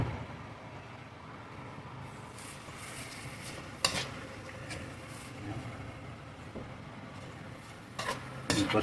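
Cabbage being stirred into buko pancit in a pan, with a soft continuous background and a few sharp utensil clinks against the pan, the loudest near the end.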